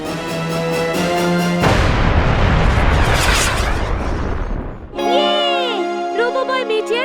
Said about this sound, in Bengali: রোবোবয় মেটিয়র ব্লাস্ট করে দিয়েছে।